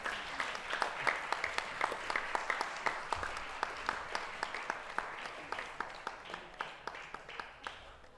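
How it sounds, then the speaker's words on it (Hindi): An audience at a transgender awards ceremony applauds steadily for several seconds, with rhythmic clapping standing out from the crowd and heard from some distance. "तालियां।"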